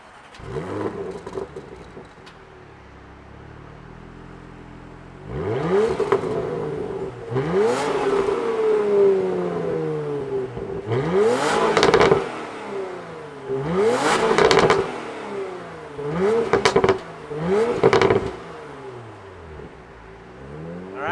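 A Python Green 2022 Porsche Macan GTS engine starts and is revved hard several times, loud close blips rising and falling in a steady rhythm with a quieter idle between.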